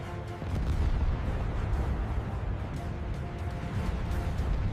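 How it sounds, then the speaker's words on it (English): A B-17 bomber hit directly and exploding into a ball of flame, heard as a sustained heavy, low roaring rumble that fills the whole stretch without breaks. "The second-to-last B-17 is impacted directly and explodes into a ball of flame"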